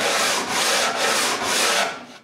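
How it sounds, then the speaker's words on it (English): Sanding off excess wood edging glued to the front of an old bedroom furniture piece, close and loud, heard as four rhythmic back-and-forth abrasive strokes with no talk. "Then I remove the excess by sanding it."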